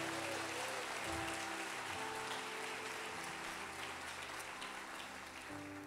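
A church congregation applauding in praise during a sermon, a dense, sustained wash of clapping mixed with a low, steady musical drone beneath it, moderately distant and without any voice over it.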